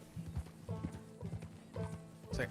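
A horse gallops in the Red Dead Redemption 2 video game, with rhythmic groups of heavy hoof clip-clops repeating about every half second, close and distinct.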